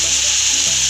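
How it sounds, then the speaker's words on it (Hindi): Masala for masala dosa, seasoned with garam masala and cumin powder, fries in a pan, giving a loud, steady, close-up sizzle with no break. "अब इसे हम 10 मिनट तक भूनेंगे अच्छी तरह से।"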